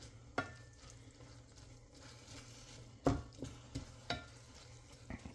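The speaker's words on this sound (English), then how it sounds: "Once that's searing up a little bit, then you add the dry rice." Gandules and dry rice sear in a pot for Puerto Rican yellow rice, a quiet, steady sizzle broken by occasional scrapes and knocks of a stirring spoon.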